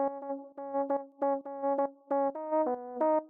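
Another Analog Lab synthesizer preset: a bright, plucky tone playing a choppy rhythmic pattern of short chord stabs with small pitch changes, clean and quiet with no other sound.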